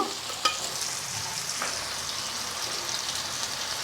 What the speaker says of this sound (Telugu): అల్లం వెల్లుల్లిపాయ వేగేదాకా కొంచెం పచ్చివాసన పోయేదాకా వేయించుకోండి